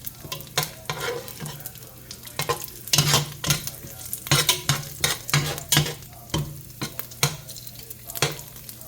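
Tocino fries in an old, battered pot under a continuous sizzle, punctuated by repeated sharp scrapes and knocks of a utensil as the pieces are turned, loud and close with no talking.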